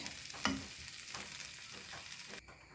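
Fried jackfruit seeds and plantain pieces are stirred in a pan, giving a quiet close sizzle with a few soft scraping strokes of the spoon before the sound drops away near the end.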